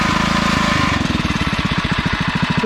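A small single-cylinder engine on an REO trike runs through its newly fitted muffler, throbbing with a fast, steady chugging beat, loud and close, with the fender rattling along.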